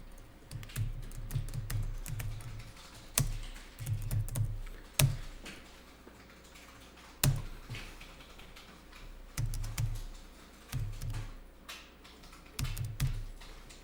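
Computer keyboards are typed on in a classroom where accounting trainees enter client registration data, with quick bursts of clicking keys coming in short, uneven runs and pauses at low volume, without talk.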